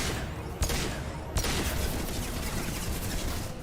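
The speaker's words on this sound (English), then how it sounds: "Taking heavy fire!" Heavy gunfire in the Mass Effect 2 video game, a dense, steady wash of shooting with two sharper shot bursts cutting through early on, continuous throughout at moderate level.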